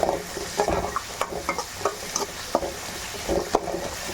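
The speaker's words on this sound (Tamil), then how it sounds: "இது நல்லா வதங்கட்டும், தக்காளி நல்லா மேட்ச் ஆகணும்" Tomatoes and crushed garlic sauté in a pan with a low continuous sizzle, while a spoon taps and scrapes in an irregular rhythm of stirs.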